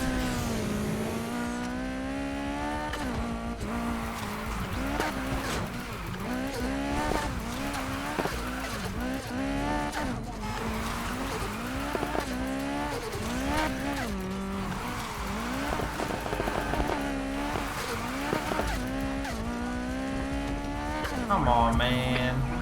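A McLaren 570S Spyder in the video game Need For Speed Heat drifts with its engine revving continuously and tires squealing through the turns, loud and steady, with a little talk faintly underneath.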